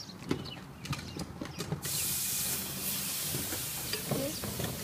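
A ribeye steak meets a hot grill, setting off a steady broadband sizzle that holds from about the second second onward, after some earlier clatter and handling noises, with no talk over it.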